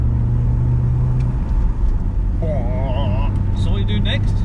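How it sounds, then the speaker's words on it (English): Engine intake roar from a BMW E46 318i under acceleration, a loud steady drone close by with rising tones near the end; people talk over it. "Love that intake, man."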